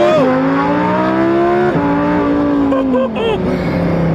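A Lamborghini with all-wheel drive revs loudly, its engine note rising and falling in pitch with shifts, close and intense, with brief voices over it.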